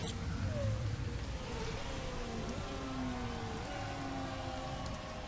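Steady rainfall in a motor racing management game, a continuous hiss of rain with faint car engine tones gliding beneath it, constant and even throughout, no talk.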